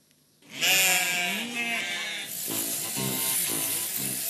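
Sheep in a sheepfold during shearing bleat loudly and close, one long wavering bleat followed by further overlapping calls over a steady hiss, with no talk.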